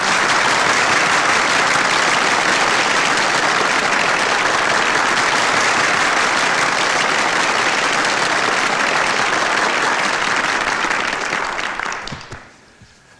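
Studio audience applause for a Turkish talk show, dense and loud, sustained evenly before fading out abruptly near the end.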